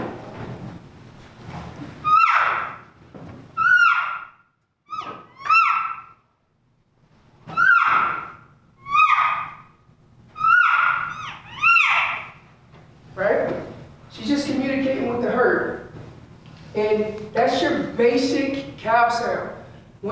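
Elk cow calls blown on a handheld elk call, a string of short nasal mews with rising and falling pitch, spaced steadily, then a denser burst of overlapping chirps from several callers practicing together.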